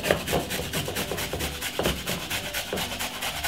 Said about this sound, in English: all I'm going to do is simple, grate on my ginger like this